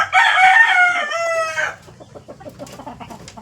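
A young gamecock stag crows loudly and close by, one strained crow lasting about a second and a half, followed by softer clucking and faint background noise.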